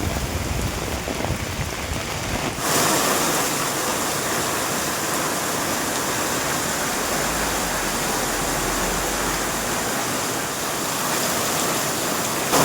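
Heavy rain pours down steadily as a dense, continuous hiss of falling water, loud and unbroken throughout, with no voices.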